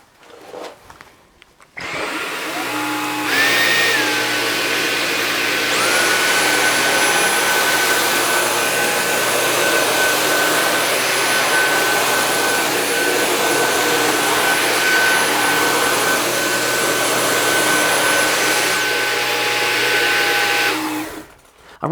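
Two Dyson cordless stick vacuums, a Gen 5 and a V8, run on maximum suction over oats scattered on a floor, giving a loud, steady whining roar with a rising high tone as the motors spin up, sustained for about twenty seconds before cutting off.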